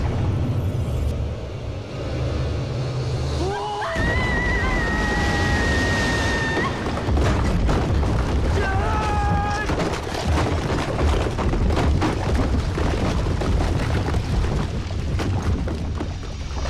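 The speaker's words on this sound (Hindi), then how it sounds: "ग्रेनेड। पिन निकाल दिया है," A grenade blast in an Ajay Devgn Bollywood action climax fight scene: one sudden heavy boom, followed by a sustained wash of dramatic score and rumbling effects.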